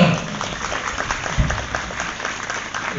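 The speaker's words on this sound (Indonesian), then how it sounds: "Tepuk tangan, saudara-saudara." A crowd applauds during a Maulid religious lecture at an Islamic boarding school in Malang, steady clapping over the full stretch, fairly close and uniform.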